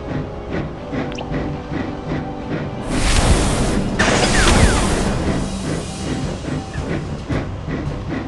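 Train from the Thomas & Friends: Adventures! game riding along a snowy Sodor track, with steady rhythmic clickety-clack rolling and a louder hissing, rushing burst in the middle, heard alone.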